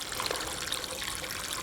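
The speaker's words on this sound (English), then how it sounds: "All right, your fuel tank is dropped. Now I'm just over here draining it." Fuel trickles and splashes steadily as it drains from a dropped car fuel tank, a continuous close liquid stream with no talking.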